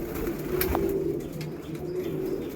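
A Golden Ice pigeon perched overhead calls in a soft, droning coo that rises and holds in a few drawn-out phrases, moderately close, with no voices.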